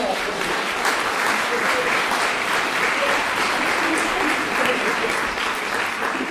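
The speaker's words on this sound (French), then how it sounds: "Merci Evelyne, on peut vous applaudir" An audience at a French conference gives a sustained round of applause for speaker Evelyne, dense, even clapping filling the room from start to finish at a steady level.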